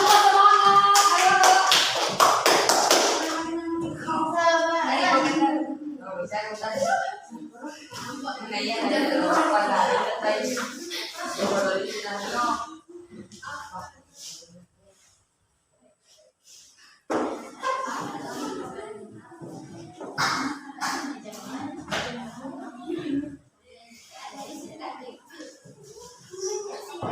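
A classroom of students clapping for a group, brisk bursts of applause and tapping mixed with a teacher and children talking, with a short quiet pause midway.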